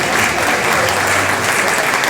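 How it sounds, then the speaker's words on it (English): Steady, dense applause from an audience at the Washington Informer's 50th anniversary celebration at the Carnegie, clapping for the event's videographer; loud, even and continuous throughout. "direct your applause to the young lady over here behind the camera, Chanel Spivey"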